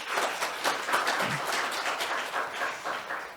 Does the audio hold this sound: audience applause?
yes